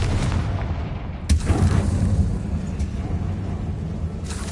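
A Confringo fire-blast spell in Hogwarts Legacy gameplay, heavy booming blasts with a sharp burst partway through over a low rumbling background, no speech.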